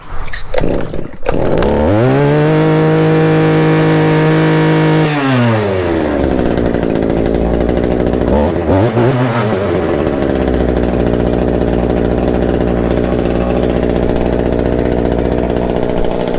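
A choked small gas engine sputters to life after a pull, revs high and steady, drops briefly, then settles into a loud, continuous run.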